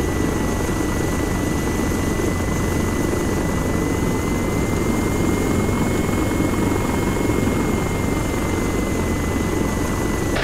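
Military helicopter flying in the ARMA 3 combat game, with Spanish Navy H-500 and Agusta Bell 212 types mentioned, giving a steady, continuous rotor and engine drone at constant loudness throughout with no talk.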